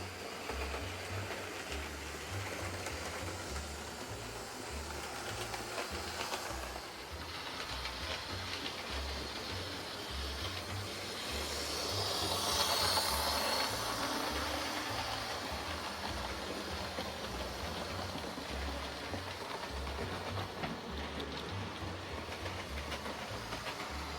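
An old J15 steam locomotive trundles along the rails near Stratford shed, a steady faint rumble with soft rhythmic clickety-clack that swells briefly midway, heard from a distance with no voices.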